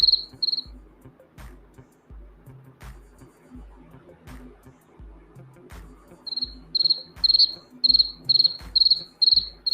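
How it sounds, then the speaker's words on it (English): Crickets chirp in repeated bursts, sparse at first then steady and fairly loud in the second half, over a background of rhythmic low thumping sounds. "By special request from 351, the crickets."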